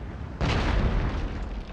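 Cannon fire from a Total War battle lands as one sudden deep boom that rolls into a long rumbling decay over a constant battlefield din.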